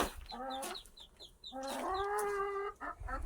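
Several chickens cluck and make drawn-out squawking calls nearby, overlapping in a busy, chattering flock.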